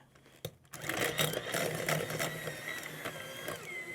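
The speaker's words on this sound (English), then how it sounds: "you start out by creaming some butter, which is pretty standard in any cake recipe" Electric mixer creaming butter for a 1938-style golden spice cake, a quiet steady mechanical whir with rattling clicks that starts abruptly after a brief pause and runs on continuously.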